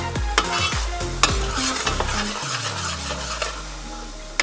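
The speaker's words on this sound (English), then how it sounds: "take your pureed roasted peppers, dump it in there, and give it a good mix" Pureed roasted red peppers being stirred into a thickened cream sauce in a pan for shrimp fettuccine, with repeated scraping spoon strokes against the pot and a steady background sizzle, no talking.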